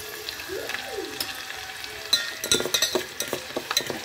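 A spoon stirs homemade hair oil heating in a pan, giving irregular scraping and clinking strokes over a faint sizzle, quiet at first and then busier and louder in the second half.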